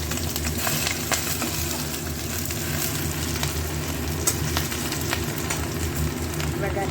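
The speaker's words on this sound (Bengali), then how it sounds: "ফোড়নগুলো একটু ভাজা ভাজা হয়ে যাচ্ছে" Whole spices with green chilli and ginger fry in ghee, a loud, steady sizzle and crackle punctuated by occasional sharp pops, with faint speech underneath.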